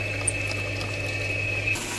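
A household electric water pump motor hums steadily in a village home while taps run after the supply ran dry; a continuous mechanical drone with a faint whine, fairly close, no voices.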